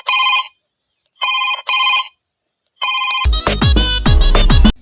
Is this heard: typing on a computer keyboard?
no